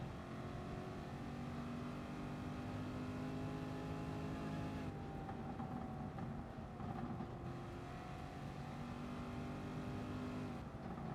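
A McLaren race car in Gran Turismo Sport drives on the Nordschleife, its engine holding a steady, fairly quiet drone with shifting pitch and no talking.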